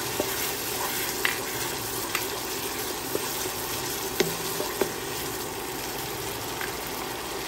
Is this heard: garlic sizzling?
yes